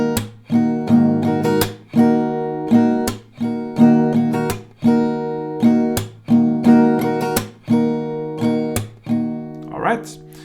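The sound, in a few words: acoustic guitar strumming pattern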